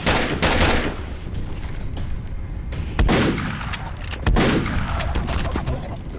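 Shotgun blasts in a horror video game: several loud, sharp booms with short decays, spaced unevenly at about 0.5, 3 and 4.3 seconds over a dense, rumbling game soundscape, with no talking.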